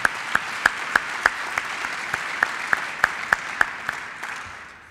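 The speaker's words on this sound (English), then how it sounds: "Please give him a round of applause." Audience applause at a 2015 Surgeons General summit, a steady wash of clapping with a few sharp, evenly spaced claps standing out, gradually fading over five seconds with no talking.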